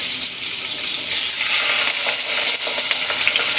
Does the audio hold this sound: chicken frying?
yes